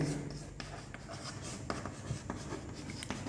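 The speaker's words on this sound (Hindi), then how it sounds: "selectivity को मैं यहाँ लिख देता हूँ" Marker or chalk scratching and tapping on a board during a chemistry lecture on surface chemistry, with steady short strokes in an irregular rhythm, close and fairly quiet, over a constant low background hum.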